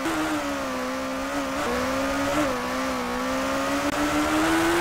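A Suzuki superbike engine in the PS2 racing game TT Superbikes holds a loud, steady high-pitched drone with small rises and dips in revs, continuous throughout with no talk.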